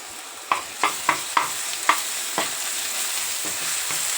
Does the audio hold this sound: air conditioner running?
no